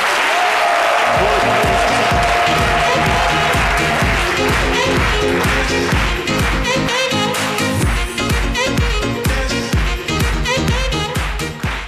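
A studio audience on a TV talk show gives loud, sustained applause with rhythmic, beat-like clapping throughout, strong and close for the whole stretch.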